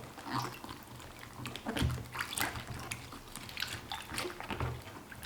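A head of cabbage is washed by hand in water, with repeated sloshing, splashing and rubbing bursts at close range.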